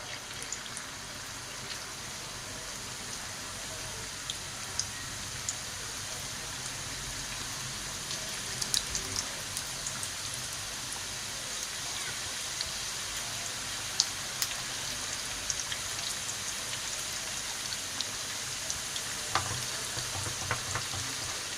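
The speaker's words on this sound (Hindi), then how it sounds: "देखिए हमारे समोसे तैयार हो चुके हैं। अब हम इसे तलेंगे।" Potato-filled samosas deep fry in a kadai of plentiful hot oil, a quiet, steady bubbling sizzle with small crackles and pops scattered throughout.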